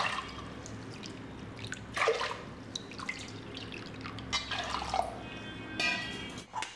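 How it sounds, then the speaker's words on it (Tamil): Water poured into a pressure cooker holding rice and dal for sambar rice (bisi bele bath) makes faint splashing and dripping, with intermittent trickles and small splashes in a quiet kitchen. "இப்போ 4 கப் தண்ணி ஊற்றுறேன்."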